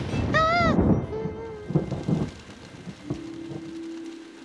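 Cartoon rain falls with rumbling thunder in a Peter Rabbit animated scene, a soft wash of rain under bright musical tones and a low, rolling rumble that fades toward the end.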